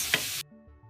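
Fresh pepper cooking in a pan for stuffing makes a brief, bright sizzle that cuts off abruptly into quiet.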